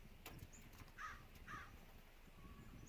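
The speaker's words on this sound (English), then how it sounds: "The crow with his warning." A crow caws a warning twice in quick succession, faint and distant, over quiet outdoor background noise during Atlantic Canada bird watching.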